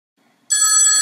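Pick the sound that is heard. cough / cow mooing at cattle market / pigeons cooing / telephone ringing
telephone ringing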